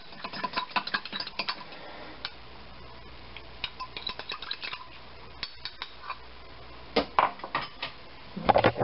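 Red wine braised pot roast being stirred in a pot, with irregular clinks and scrapes of a utensil against the pot's sides that come in clusters and get louder toward the end.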